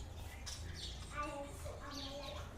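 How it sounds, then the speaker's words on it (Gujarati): Sparrows at a relative's house give a few faint, quick chirps over a soft background, with people talking nearby. "જો ચકલા છે મામાને ઘરે"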